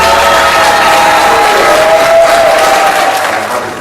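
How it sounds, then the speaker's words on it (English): Audience applause at Schaumburg Elementary School in New Orleans East, a loud, dense wash of clapping with cheering and crowd noise, steady throughout and easing slightly at the end. "Give yourselves a round of applause,"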